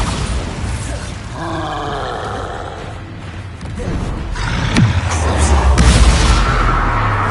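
A Bombarda spell explosion in Hogwarts Legacy, loud and close, building from rumbling magical whooshes into a heavy booming blast that rolls on with deep reverberating rumble.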